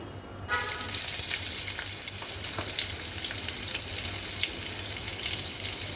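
Onions frying in mustard oil for a shapla and prawn curry, a loud, steady sizzle that bursts in suddenly and continues with fine crackling and occasional light clinks, no voices.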